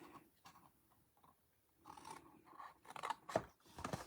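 Scissors snip through paper in short, crisp cuts that come close together and grow louder toward the end. The cutting is quiet and close, with no talking.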